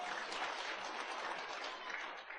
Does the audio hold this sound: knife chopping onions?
no